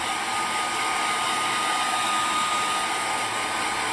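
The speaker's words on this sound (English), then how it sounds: "I have my hairdryer right next to me. So I will get a little loud" A hair dryer blows steadily and loudly up close, a constant whooshing roar with a faint whine, unchanging throughout and no talking.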